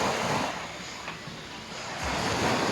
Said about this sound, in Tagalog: Karon pa mga guys na naglulino ang dagat.